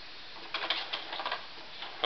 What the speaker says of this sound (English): So I'm just waiting for the printer to come over into the middle.